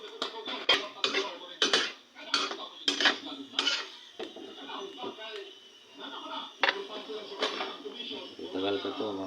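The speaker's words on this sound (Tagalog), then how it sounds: "Haluin na naman natin." Adobong baboy is stirred in a pot with a utensil, giving a series of sharp metallic clanks and scrapes in an uneven rhythm, close by, with someone talking between and over the strokes.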